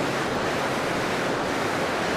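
A river in the hills below a village hydropower pipeline in Rolpa gives a dense, steady rushing roar, unbroken and fairly loud throughout.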